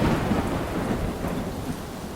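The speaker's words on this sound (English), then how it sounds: "Loud, deep and lang the thunder bellowed." Deep thunder rolls on without a break over steady, heavy rain, a loud and dense storm wash filling the whole stretch.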